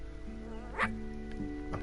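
The dog Sparky from the video game I Am Dead gives a single faint, distant bark over a quiet, droning musical game background, with a couple of softer yips following.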